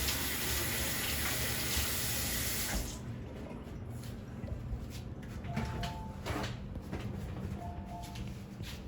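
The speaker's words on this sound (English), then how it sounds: "Put this in the sink and wash my hands." Water runs steadily from a kitchen sink tap as hands are washed beneath it, a loud broadband rush for the first three seconds, then a softer, uneven trickle with small splashes and clinks.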